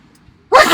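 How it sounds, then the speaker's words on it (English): One sudden loud sneeze bursts out close by after a short quiet pause, its sharp onset cut off at the end. "Carry on, I'm going to sneeze."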